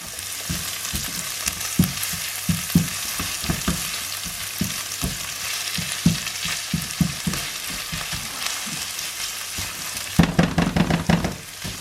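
Peppers and onions sauté in a hot pan with a steady close sizzle, punctuated by regular scraping stir strokes, growing busier and louder near the end.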